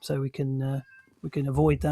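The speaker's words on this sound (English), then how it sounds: "Apologies if you can hear my cat as well in the background." A house cat meows faintly in the background while someone talks over it almost throughout, the brief cry surfacing in a short pause between his sentences.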